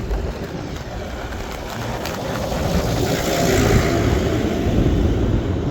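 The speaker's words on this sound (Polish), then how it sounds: "Traktorek jedzie." A small tractor drives past near a new roundabout, its engine a steady broadband rumble that swells slightly as it approaches and stays loud and close throughout, with no talk.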